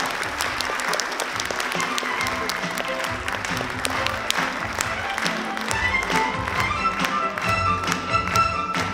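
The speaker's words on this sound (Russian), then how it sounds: "Давайте еще раз поддержим бурными аплодисментами таких юных артистов" An audience at a dance performance claps enthusiastically, a dense, sustained round of applause that carries on throughout.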